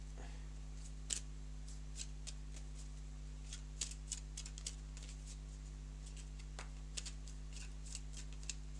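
Playing cards being reshuffled during a tabletop board game playtest, heard as faint, sparse riffling clicks and soft flicks spread over several seconds in a quiet room.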